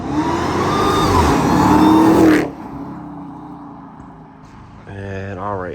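A 2021 Dodge Charger Hellcat Redeye with stock exhaust roars loudly as it revs up, then drops to a lower idle rumble before a final rising rev.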